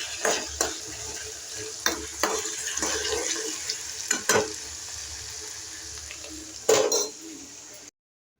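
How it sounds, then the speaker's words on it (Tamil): Potatoes frying in a pan give a continuous soft sizzle, broken by irregular spatula scrapes and metallic clinks against the pan, close by, with a louder clatter near the end before it cuts to silence. "கிழங்கு பொரிச்சிட்டு இருக்கிறேன் தம்பிக்கு."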